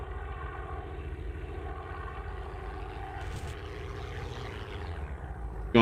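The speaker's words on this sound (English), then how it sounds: "I'm going to follow Das Rock in his aircraft." A WWII propeller aircraft engine drones steadily in the online game World War II Online, a constant buzzing hum at moderate level with a slight shift near the end and no talk.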